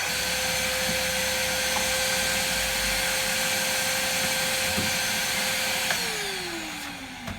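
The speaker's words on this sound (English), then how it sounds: "turn on your vacuum cleaner" A vacuum cleaner roars steadily at close range with a constant high whine, then the motor winds down near the end.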